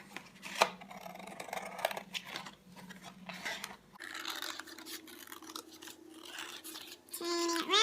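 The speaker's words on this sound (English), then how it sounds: "Turning it round and keeping your scissors straight." Scissors snipping through cardboard while making a cardboard sculpture, a series of close, crisp cutting crunches in irregular rhythm with brief pauses between cuts.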